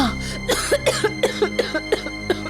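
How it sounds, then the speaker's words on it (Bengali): A cartoon queen coughs in a harsh fit that won't ease, giving about eight close, loud coughs in an uneven rhythm with no talk over them. "কাশিটা কিছুতেই কমছে না।"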